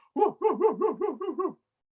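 A dog gives a quick run of about seven rhythmic barks or yips, close and fairly loud, with no other sound around them.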